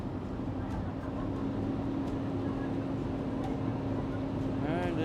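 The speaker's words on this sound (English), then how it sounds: "Man, these engines are so powerful on these boats." Powerful engines on a river boat drone with a steady low hum and a constant mid-pitched tone, heard from aboard, with people talking faintly over the noise.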